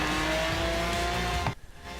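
A car engine roars loud and close at a race start in Forza Horizon 3, with a Ferrari opponent nearby, holding a strained, steady note before cutting off abruptly, then returning as softer, uneven engine sputters with no talking.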